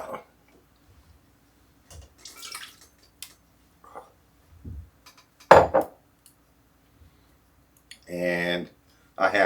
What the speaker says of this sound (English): we're going to go ahead and add the beef to our crock pot